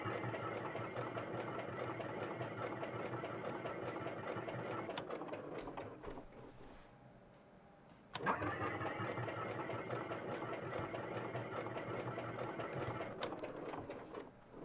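A Cessna 172 engine in the X-Plane 12 flight simulator cranks and runs with a rough mechanical drone, cuts out briefly partway through, then catches again and keeps running steadily.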